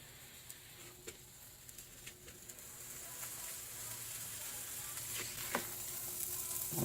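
A bacon and cheese quesadilla fries in butter on a hot plate, giving a steady, quiet sizzle with scattered small pops and crackles that grow slightly busier toward the end.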